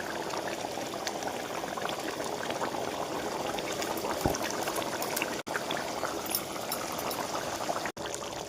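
Vegetarian aloo dum potato curry boils in a pot, a continuous close bubbling and simmering with small pops that runs steadily throughout.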